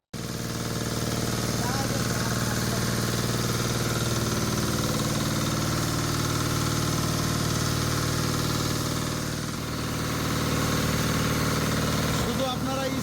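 A shallow-engine high-pressure car washer runs with a steady, loud mid-pitched engine drone and vibration for the whole stretch, its tone wavering slightly near the end.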